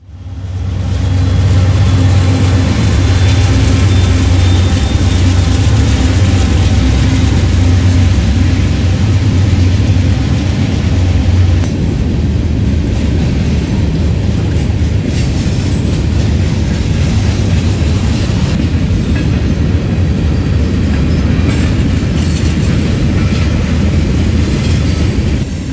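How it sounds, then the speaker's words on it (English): CSX manifest freight M350 rolls northbound on the Toledo Sub behind a pair of AC44CW diesel locomotives, a loud, steady roar of engines and rumbling wagons that holds close and continuous throughout. "we observed manifest northbound M350, the counterpart to M351, northbound with a pair of"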